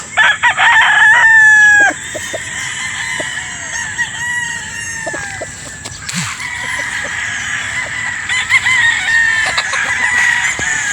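Gamefowl roosters crow repeatedly at a game farm in Batangas, several birds calling loudly and close, their crows overlapping with clucks and other farmyard sounds throughout.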